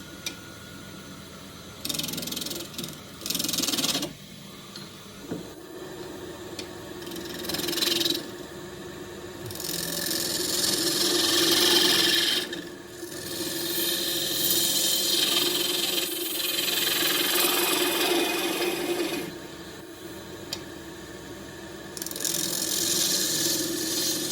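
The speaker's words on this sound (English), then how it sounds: "Anything like this I'm going to do with a 3/8 spindle gouge, 3/8 flute." A wood lathe spins a very hard Tasmanian horizontal scrub bark-box lid while a 3/8 spindle gouge cuts, with bursts of rough shaving noise over a steady machine hum, broken by short pauses.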